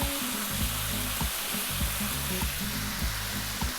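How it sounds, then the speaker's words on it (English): Cold cooked basmati rice frying over maximum heat in a hot pan for fried rice with soy sauce chicken, ginger and cabbage: a loud, steady, close sizzle with a low rumbling undertone and faint tapping stirs. "We really do need to fry the rice."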